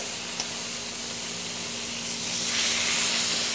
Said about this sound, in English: And I just want to sear that meat off really well.